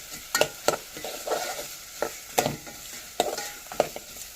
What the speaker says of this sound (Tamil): நல்லா வதங்கணும் வதங்கினா தான் நல்லா டேஸ்ட் இருக்கும்